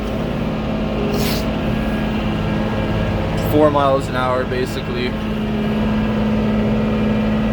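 A Case IH Maxxum 5240 tractor with a Cummins engine drones steadily and loudly while pulling a 5-furrow 7500 plow through an autumn field, with someone talking briefly over the constant engine noise.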